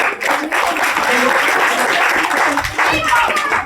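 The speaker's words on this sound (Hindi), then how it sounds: "तालियां बजाकर स्वागत" A crowd at a Krishna temple gathering claps steadily in welcome for a local councillor, dense and sustained throughout, with a voice audible over the applause.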